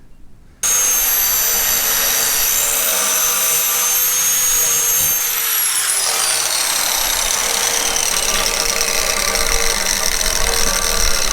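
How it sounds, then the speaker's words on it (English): Angle grinder grinding down a weld on a steel throttle shaft, exposing an old crack: a loud, continuous high-pitched whine that starts abruptly after a brief pause and holds steady, dipping slightly in pitch midway under load. "Only about halfway through grinding, and I'm already starting to expose the old crack."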